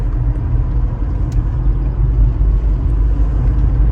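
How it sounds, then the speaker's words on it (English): Steady low rumble of a car engine and road noise from inside the vehicle on a drive to Wegmans, loud and unbroken, with no talk. "I am driving to Wegmans."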